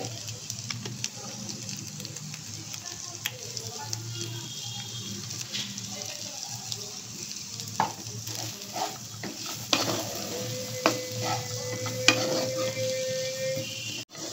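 A spoon stirs sweet corn with chili flakes and black pepper in a pan, giving soft scraping and a faint sizzle, with intermittent clinks and taps that grow a little louder toward the end.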